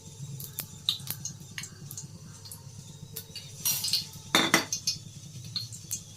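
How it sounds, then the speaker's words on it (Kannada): A metal spoon clinks lightly and repeatedly against a container and pan as oil is spooned in for tempering sambar, close and fairly quiet, with a faint low hum underneath. "ಈಗ ಸಾಂಬಾರು ಒಗ್ಗರಣೆಗೆ 2 ಸ್ಪೂನ್ ಎಣ್ಣೆ ಹಾಕೋತೀನಿ"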